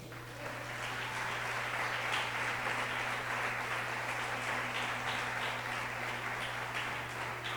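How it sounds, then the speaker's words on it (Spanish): A church congregation applauds at a worship service, steady dense clapping from many hands throughout, with a low constant hum beneath it. "¿Cuánto le dan un aplauso al Señor?"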